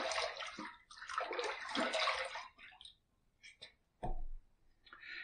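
Tap water runs over a razor being rinsed mid-shave, heard as close, soft splashing and gurgling in bursts, with brief pauses and a few small clicks and drips between them. No one speaks.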